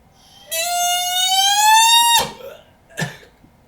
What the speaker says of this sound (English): So that's what the practice chanter reed sounds like by itself